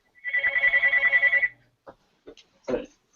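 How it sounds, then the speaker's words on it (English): A telephone rings with a warbling electronic trill that lasts about a second and a half and stands out clearly, followed by brief faint voices in the background. "Your phone there, Craig?"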